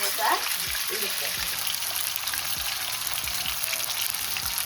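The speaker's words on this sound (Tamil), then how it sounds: "எண்ணெய் வந்து கொதிச்ச உடனே நான் வந்து இந்த சிக்கனை ஃப்ரைட் ரைஸுக்காக பொரிச்சு எடுக்க போகிறேன்" Chicken pieces frying in hot oil for chicken fried rice, a dense, bright sizzle with bubbling crackle throughout, plus a few low knocks and a brief splash at the start.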